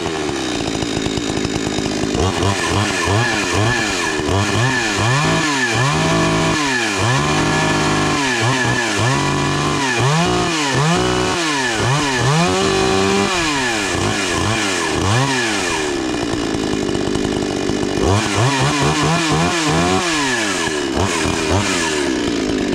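A 52cc chainsaw runs loud and close after a pull start, its two-stroke whine rising and falling through repeated throttle blips, briefly settling to a rough idle before revving again.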